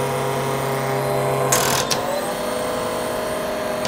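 A hydraulic FlexArm industrial tapping machine runs forward with a steady mechanical hum and whine, and a brief burst of harsher noise midway as the speed rises.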